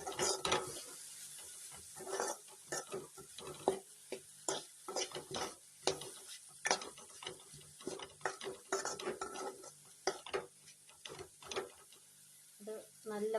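One cup of grated coconut being stirred into a hot pan, with repeated scraping strokes of a utensil against the metal and a light sizzle, paced irregularly over several seconds.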